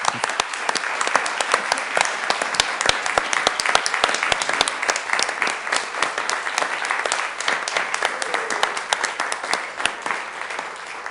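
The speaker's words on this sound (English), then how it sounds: "Council, let's give them a round of applause." Steady applause from a council meeting audience honoring the municipal clerk team, dense clapping sustained for about eleven seconds at even loudness with no talk over it.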